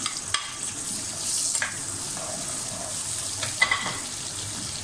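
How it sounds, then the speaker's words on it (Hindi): Chopped onions fry in plenty of oil for beef white biryani, giving a continuous close sizzle broken by a few sharp clinks of a spoon against the pot, with no talking. "अब काट के अब हम इसको फ्राई करने के लिए रख रहे हैं"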